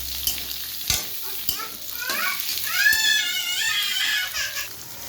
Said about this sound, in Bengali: এবার এই ক্যাপসিকামের এই পেঁয়াজটাকে রসুন তেলে দিয়ে দেবো, দিয়ে ভালো করে ভেজে নিতে হবে।